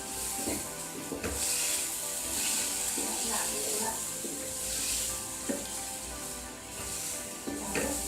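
Chicken fries with black pepper, vinegar and soy sauce in a pan, giving a continuous sizzle and hiss broken by the clatter of stirring and occasional louder spits.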